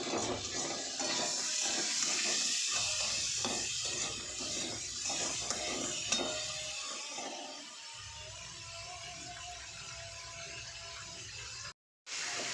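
Crabs are stirred into a spice mixture in a pan, with quiet, uneven scraping and rubbing of a utensil against the metal that eases off toward the end.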